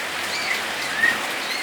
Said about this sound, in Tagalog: Ulan na. Kanina pa ito nag-umpisa.